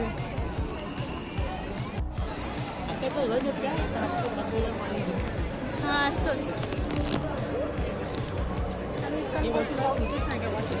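Dense crowd chatter and babble fill the ISKCON temple grounds at Kharghar, Navi Mumbai, a steady close wash of many voices with a person speaking over it.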